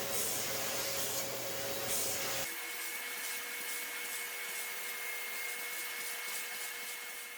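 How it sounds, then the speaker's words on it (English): A high-suction vacuum cleaner pulls sanding dust off a wooden Pioneer HPM-100 speaker cabinet: a steady, close whine and rushing hiss, with a sudden shift in tone partway through as the nozzle meets the surface. "Here I use a vacuum with high suction to remove most of the sanding dust."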